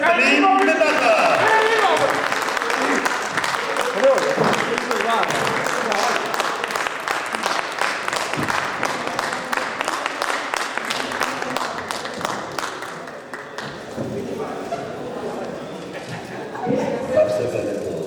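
A live audience at a literary evening honouring a guest applauds loudly and continuously, with dense clapping that slowly thins toward the end while a voice speaks over it.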